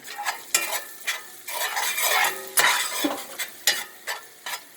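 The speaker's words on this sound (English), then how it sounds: "I'm going to add a little more olive oil to it. And stir this around." Food frying in olive oil in a pan is stirred with a utensil, giving repeated scraping strokes over a steady sizzle, close and fairly loud, with no voices.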